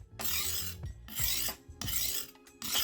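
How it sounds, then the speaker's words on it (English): A serrated knife's teeth are drawn across a DMT diamond sharpening cone in four distinct rasping strokes, each a harsh scrape separated by short pauses, close up with no talking. "This also helps sharpening the teeth of your knife."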